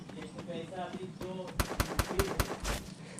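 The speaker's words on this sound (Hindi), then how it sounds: "फिर राइट से फायर आता है" Gunfire crackles in a mobile shooter game, a fast run of sharp loud shots with some rapid bursts, following a stretch of other in-game sounds.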